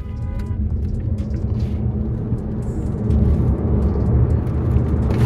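A BYD Seal car pulls away and accelerates in traffic, a steady low road rumble and motor hum that swells louder midway, heard from inside with no talking.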